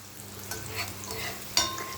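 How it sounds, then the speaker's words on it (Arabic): Onions sauté quietly in a pan for a Egyptian liver tagine, giving a soft steady sizzle with a brief stir or clink of a utensil partway through. "دلوقتي بقى هنشوح البصل شويه"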